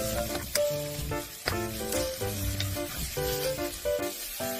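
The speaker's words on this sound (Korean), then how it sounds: "멸치가 볶아지면 무와 양파, 대파 넣고 볶아주세요." Anchovies are stir-fried with radish, onion and green onion, making a close, lively sizzle broken by repeated stirring scrapes and clinks of a utensil against the pan, with no voices.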